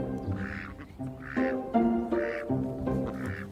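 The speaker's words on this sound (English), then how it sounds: "They're ducks." Ducks quack in repeated loud bursts, roughly four clustered calls, close by on a Scottish island while dogs herd them, with no clear talk over the sound.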